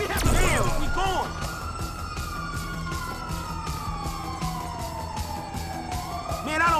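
In GTA 5, an ambulance siren wails in long rising and falling sweeps after a brief crash at the start, loud and close, while voices talk over it.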